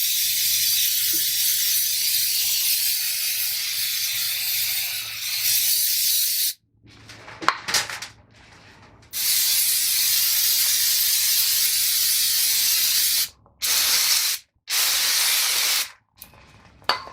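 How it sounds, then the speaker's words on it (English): Brake cleaner sprayed onto the front brake caliper of a 2004 Honda Pilot, with long loud aerosol hisses and short bursts, and a brief stretch of wire-brush scrubbing in the middle. "I'm going to clean off the caliper with a wire brush and some brake cleaner."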